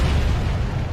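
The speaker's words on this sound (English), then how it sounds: "there was a massive explosion" A massive explosion at the T2 Laboratories chemical plant reactor, heard as a deep, loud, continuous roaring rumble that fills the whole second without any talk.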